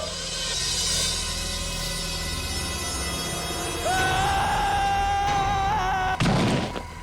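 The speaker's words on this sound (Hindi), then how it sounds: "ये चीखने की आवाज कहां से आई?" A sustained, wavering scream rises over a dramatic musical background and cuts off abruptly with a heavy thud.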